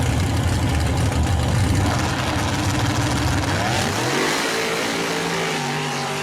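Modified mud truck engine roars loud and steady at a shootout race launch, then revs climb in pitch as the truck pulls away, with engine noise filling the whole stretch.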